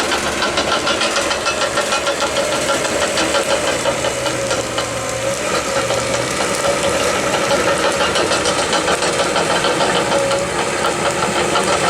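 A bulldozer engine runs steadily near a wooded power-line clearing, a loud continuous diesel rumble with a rough knocking texture and no break across the whole stretch.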